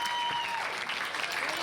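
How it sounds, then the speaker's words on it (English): Poker players clap at the table during a high-stakes final at the Five Diamond World Poker Classic, a steady close patter of hands with a faint tone in the background. "So Justin clapping, and what a teeter-totter match we're seeing"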